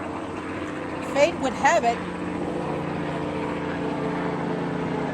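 A small red helicopter circles over a cemetery in Portsmouth, New Hampshire, making a steady, distant rotor drone beneath someone speaking.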